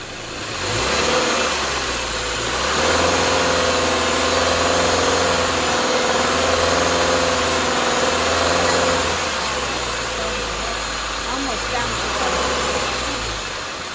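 Subaru car engine running steadily with its revs raised and held during air conditioning charging, a continuous low hum that climbs and settles, with faint speech nearby.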